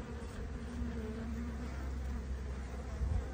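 Honeybees buzz steadily at an open hive while the queen is being marked, making a close, continuous hum with a few higher individual whines drifting over it.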